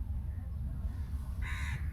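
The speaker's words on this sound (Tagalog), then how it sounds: "Ang ganda ang mga ibon." A crow gives a single harsh caw over steady low wind rumble and ambient noise along the Khobar Corniche waterfront.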